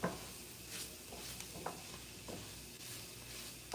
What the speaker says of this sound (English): so just keep stirring it around and let it cook